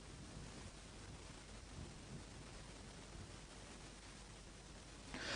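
Steady rain falls in Hyderabad as a continuous broadband wash of even, hissing noise, faint and unbroken throughout, swelling slightly at the very end.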